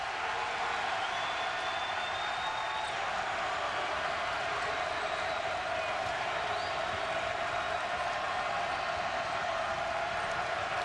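Steady roar of a basketball arena crowd at a college game, Marquette at Cincinnati, with broad cheering and applause washing continuously throughout at a sustained level.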